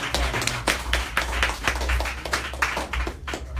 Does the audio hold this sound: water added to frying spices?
no